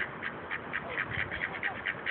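Pet ducks quack in a steady run of short, repeated calls while they play with a dog, the quacks close and fairly quiet over a constant noisy background.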